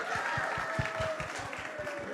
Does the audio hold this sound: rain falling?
no